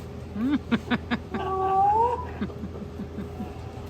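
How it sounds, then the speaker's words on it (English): A pet cat meows several times in quick succession, then lets out a longer drawn-out wavering yowl, fairly close and clear over a low background hum. "it's your cat"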